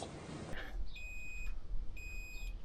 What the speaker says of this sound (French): C'est où c'est le bip?